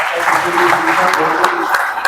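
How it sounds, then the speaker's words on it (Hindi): An audience at a printing business expert talk in Indore claps for three guests, dense steady applause mixed with voices for a couple of seconds. "मैं तीनों अपने गेस्ट का एक बार जोरदार तालियां हो जाए"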